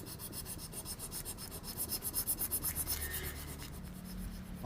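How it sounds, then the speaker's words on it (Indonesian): Steady rhythmic rasping of sandpaper rubbed back and forth on a wooden ashtray to round and smooth it, close up and fairly quiet, with no talking. "Kita gosok pakai amplas seperti ini teman-teman, supaya membulat ya dan halus."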